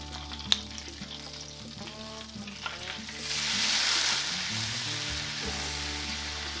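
Chardonnay white wine hits a hot pan of garlic, and the steady sizzle swells into a louder, brighter hiss that holds, with a few utensil clicks and stirring underneath.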